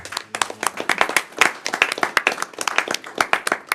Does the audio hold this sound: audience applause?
yes